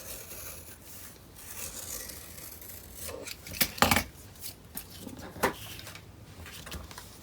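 Paper is being cut, trimming half an inch off a sheet, heard as soft close rustling and scraping with a few sharper snips near the middle, fairly quiet throughout.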